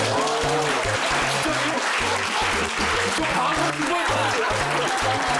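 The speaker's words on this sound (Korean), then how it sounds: "다시 한번 박수 쳐주세요" An audience at a Korean science lecture claps steadily and loudly, with a thumping rhythmic bass beat of music running underneath the whole time.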